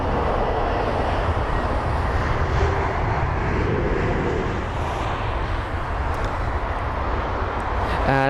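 A loud, continuous roar from an Air Canada airliner at London Heathrow airport, with steady broadband jet engine noise that holds throughout.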